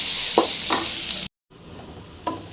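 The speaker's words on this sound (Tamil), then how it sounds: "அடுத்து வெங்காயம் போட்டுடலாம் வெங்காயம் போட்டு நல்லா வெங்காயம் ஃப்ரை பண்ணிக்கலாம்" Onions frying in hot oil in a pan give a loud, steady sizzle with a few stirring scrapes, broken by a brief silent gap.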